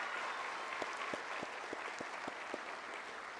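Applause for the graduating class at an online public school's commencement ceremony, a soft, distant patter of many hands with a few sharper individual claps standing out, steady and faint throughout.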